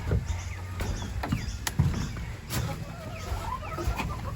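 Chickens cluck softly inside a hen house with nesting boxes and a perch, giving scattered short clucks and faint calls over a quiet, close background with light bumps.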